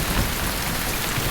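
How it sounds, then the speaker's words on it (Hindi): Rain falls steadily in a dense, even hiss of drops on surfaces, moderately loud and unbroken, with no voices. "मैंने कहा था ना कि बारिश होगी"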